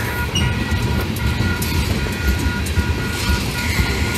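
A train passes signals and a crossing as it switches onto the main line on a cool autumn evening, a steady close rumble of rolling wagons and wheels throughout.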